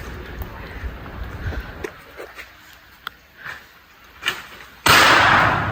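A coconut falls from a tree and hits a roof hard enough to bend it: scattered soft knocks and rustles over a quiet background, then a sudden loud crash that keeps ringing and rattling until the end.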